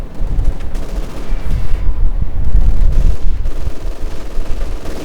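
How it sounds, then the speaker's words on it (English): Sustained MG42 machine-gun fire in Company of Heroes, loud and dense, with rapid bursts rolling on over rumbling battlefield noise and no talk. "MG42 stopping up the Panzer Grenadier advance"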